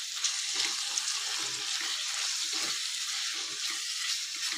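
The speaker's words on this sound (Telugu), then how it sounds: "ఇప్పుడు ఒకసారి మళ్ళీ మనం మంచిగా కలుపుకుందాము" Kandikaya (pigeon pea) curry with masala frying in oil as it is stirred in the pan, a dense, steady close sizzle with soft scraping strokes, no voices.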